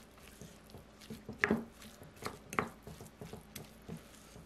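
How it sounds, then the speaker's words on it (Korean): Drained tuna and chopped vegetables being mixed in a bowl for paprika tuna pancakes, giving soft wet squishing and light clicking strokes at an uneven rhythm, with two louder scrapes standing out, close and fairly quiet. "기름 쪽 뺀 참치와 야채를 섞어줍니다."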